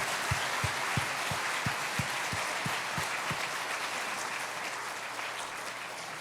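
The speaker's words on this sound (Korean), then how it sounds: "하나님께 모두 영광 박수 올리겠습니다" A church revival congregation applauds in praise, a dense, sustained wash of clapping with several sharp, evenly spaced thumps early on, then steady clapping continuing.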